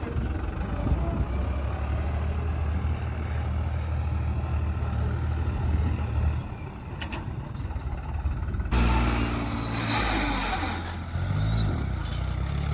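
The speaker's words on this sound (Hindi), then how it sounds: "भैया ने कितना ट्रैक्टर उठा दियो" A tractor rumbles steadily with a low engine drone while it is lifted into a wheelie, the engine note jumping and growing rougher partway through as it strains under load.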